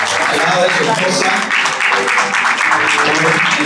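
Loud, continuous applause from a crowd of guests at a quinceañera party in Lima, a dense steady wash of clapping lasting throughout with music and voices mixed underneath.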